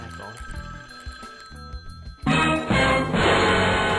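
A telephone bell rings loudly in the second half, starting abruptly after quieter background sound, with talk present beneath it.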